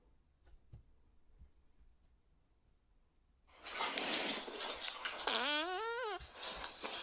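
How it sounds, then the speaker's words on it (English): A recorded fart is played back, starting as a loud, broad, rough burst midway through and ending in a wavering, pitch-sliding squeal, with quiet hum before it. "the greatest fart I ever did"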